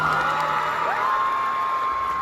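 Crowd cheering and whooping, a steady wash of excited voices at constant loudness with no pauses, heard alone without talk.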